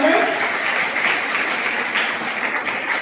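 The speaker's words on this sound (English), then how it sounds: "We can give a warm welcome by giving a big round of applause." Audience at a ceremony honouring successful students giving a warm welcome with sustained, fairly loud clapping that continues evenly throughout.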